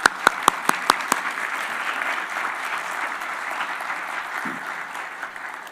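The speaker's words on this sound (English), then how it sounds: "I want to give a round of applause" A round of audience applause at a Martin Luther King Jr. commemoration and hall of fame award ceremony: a few sharp claps open it, then steady, dense clapping fills the hall, fairly close, and slowly thins out.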